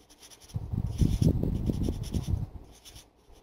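Pen or marker on paper, drawing small circles by hand in quick repeated scratchy strokes, close and fairly quiet, with short pauses between bursts.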